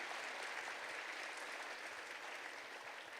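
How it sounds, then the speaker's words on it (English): Dense, steady applause from a crowd at an evening mayor's education awards ceremony, a continuous wash of many hands clapping with no one talking. "Give her a big round of applause"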